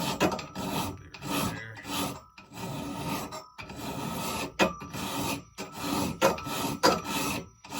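A file rasps across the teeth of a peg and raker saw in steady back-and-forth strokes, each harsh scraping pass separated by brief pauses, close and fairly loud with no talking.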